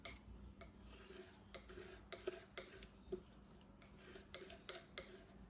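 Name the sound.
mixing yellow and white oil paint on a palette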